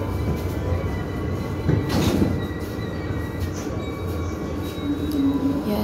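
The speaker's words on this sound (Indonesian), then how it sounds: "ini kereta api Saung Galih ternyata" A Jaka Tingkir passenger train running on rails, heard as a steady rumble of wheels and carriage with faint high squealing tones and a brief swell in the middle.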